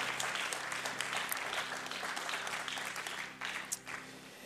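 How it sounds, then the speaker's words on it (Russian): Sustained applause from a church congregation honoring its leaders, a dense wash of many hands clapping at fairly even volume, thinning slightly toward the end. "Давайте большие аплодисменты подарим нашим лидерам."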